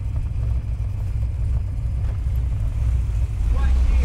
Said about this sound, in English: The thing is idling right now in gear.